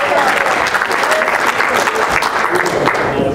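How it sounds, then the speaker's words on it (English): An audience at a motivational talk claps in a sustained, fairly loud round of applause, many hands at an even level with a few voices faintly underneath. "Let's give a round of applause."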